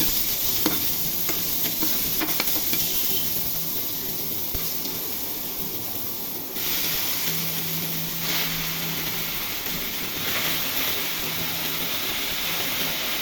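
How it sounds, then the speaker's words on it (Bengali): Chopped onion fries in a pan ahead of red amaranth greens, a steady close sizzling hiss with occasional stirring clatter and brief louder bursts. "পেঁয়াজ কুচি দিয়ে দিব, ভেজে নিব, হালকা ভেজে শাক দিয়ে দিব"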